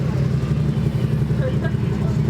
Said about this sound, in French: Oh, au final, elle fait quand même du bruit sa moto.